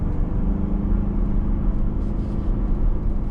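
A 2.3-liter turbo Ford Ranger, a 2020 XLT Sport 4x4, pulling up a grade at light throttle, giving a steady low engine drone and road rumble heard from inside the cab, with no talk.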